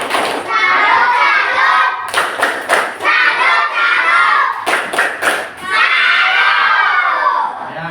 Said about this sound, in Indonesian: Yuk kita tepuk tangan lagi.